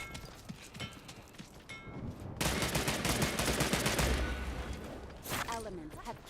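Burst rifle fire from a gold-tier weapon in a video game, a dense sustained stretch of rapid gunfire crackling through the middle of the clip amid other game noise, with a voice nearby.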